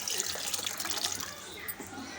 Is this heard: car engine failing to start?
no